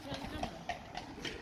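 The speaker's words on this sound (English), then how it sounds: "look at this, horses and a cart" Hooves of horses pulling a cart clip-clop in a steady rhythm along a street in Kraków at night, with someone talking loudly over the sound.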